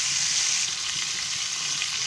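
Bombay duck (bombil) fish fry on a high flame with a steady, dense crackling sizzle throughout. It is close and continuous with no voices.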